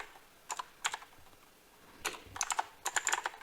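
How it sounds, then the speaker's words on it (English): Fingers tap a computer keyboard in short quiet bursts, a few isolated key clicks followed by quicker clustered runs of keystrokes, close and alone with no talking. "We type it."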